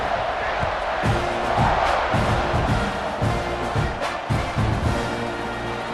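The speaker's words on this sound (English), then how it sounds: "this crowd is feeling themselves after that last drive" Football stadium crowd at an Oklahoma versus Texas A&M game roaring after a touchdown, a dense, steady wall of cheering and shouting sustained throughout, with a commentator's voice underneath.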